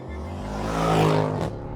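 A 2011 Mercedes E63 AMG with the 6.2L V8 and 7-speed gearbox revs hard to high RPM, its engine note rising to a loud peak and then easing off, close and continuous, with no talking.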